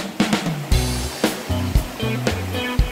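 River water at Sungai Ciberem in Pandeglang, Banten, a spot where locals bathe, splashing and rushing close by in a steady wash broken by several sharp splash bursts.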